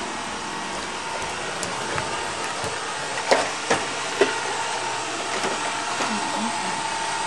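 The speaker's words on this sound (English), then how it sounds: "How dare that robot vacuum our floors for us?" A red Roomba robot vacuum runs across a home floor with a steady, close whirring drone, punctuated by a few brief bumps and knocks as it moves.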